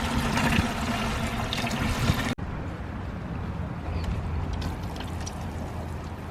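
Worm tea is poured into a container and diluted for watering citrus, a loud continuous splash that cuts off abruptly, followed by a softer, steady trickle of water.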